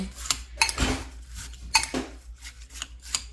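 A spoon stirs taho, a soft tofu dessert, in a container, scraping and clinking in quick irregular bursts, close and fairly loud with no talking.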